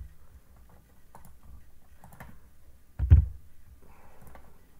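Someone types on a computer keyboard: faint, soft key taps in short clusters, with one duller thump partway through and a quiet room background.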